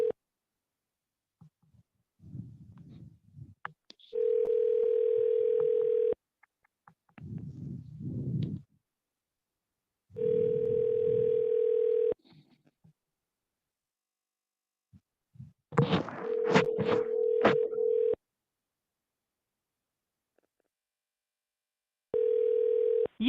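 A telephone dial tone sounds in several separate steady bursts as a call is placed, broken by muffled handling noise and a stretch of jumbled tones midway.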